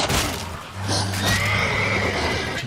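A horse in The Witcher 3 whinnies loudly near the start, with hoof clops and game sounds around it and a voice talking over the middle.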